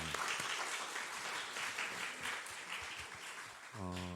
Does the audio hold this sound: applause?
yes